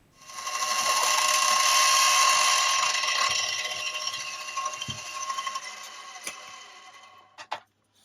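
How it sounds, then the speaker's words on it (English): Large drill bit enlarging screw holes in the bridge spacer of a vintage Kramer 450-B aluminum-neck bass, a whirring grinding drone that holds for several seconds, then fades into scattered clicks and taps, close by. "use the large drill bit to enlarge those holes so that these screws can freely pass through the"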